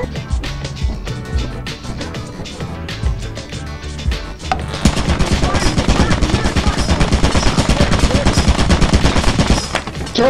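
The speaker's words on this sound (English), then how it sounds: "Turret!" Turret gunfire in the video game Safety Corp. 2, first a run of loud rapid sharp shots, then a denser, continuous hammering burst that stays loud until near the end, with faint talk mixed in.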